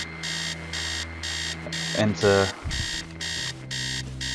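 An alarm clock in the video game Stories Untold rings with an evenly repeating electronic beep pattern, loud and steady, while someone talks briefly over it.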